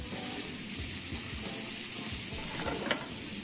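Onion, garlic and zucchini sizzle in a pan, a steady frying hiss with soft stirring scrapes and a few clinks near the end, and no talking.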